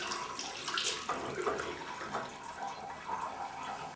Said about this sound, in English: We have hot and cold running water